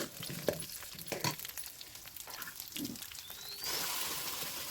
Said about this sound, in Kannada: ಅದಕ್ಕೆ ಈರುಳ್ಳಿನ ಹಾಕಿ ಚೆನ್ನಾಗಿ ಫ್ರೈ ಮಾಡಿಕೊಳ್ಳುವ